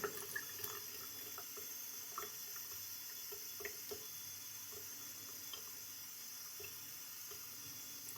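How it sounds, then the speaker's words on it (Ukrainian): Cold water runs steadily from a bathroom tap, a quiet continuous trickle with a few faint drips and small clicks, with no talking. "Відкрила холодну водичку"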